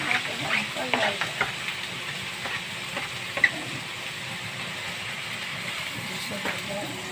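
Bitter gourd (ampalaya) goes into a hot pan and sizzles steadily while being stirred, with soft scraping and clatter over the frying hiss, and a voice talks briefly underneath.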